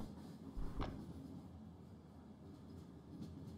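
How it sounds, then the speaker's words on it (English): Train passing in the Escape Simulator room The Riddle Express, a faint low rumble with a soft clatter early on and a quieter rattle near the end, no voices. "We got a train."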